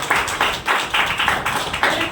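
An audience applauds a speaker at a Hindi-language gathering, clapping in a steady, rhythmic beat of repeated bursts that carries throughout.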